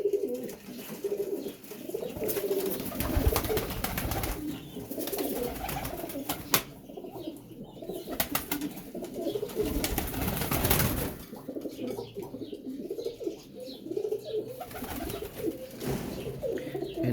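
Domestic pigeons, including a prized Teddy-type bird, coo repeatedly in a loft, soft low rolling calls overlapping in a steady rhythm, close by and moderately loud, with occasional rustling and no talk.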